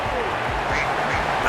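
A cricket video game plays a quack effect when a batsman is out on zero, with several short duck quacks in quick succession under a commentator's voice.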